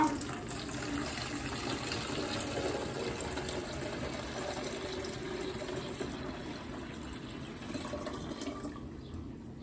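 One litre of water is poured into a container while homemade cleaning products are being mixed, a steady, close, continuous rush of liquid for nearly ten seconds with no talking.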